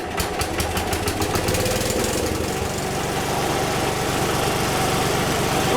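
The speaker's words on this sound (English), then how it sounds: "Normally, it's a real dependable engine." A 1966 Wheel Horse garden tractor engine runs steadily up close after a flooded start, with a loud, even idle and a faint knocking rhythm that carries on without a break.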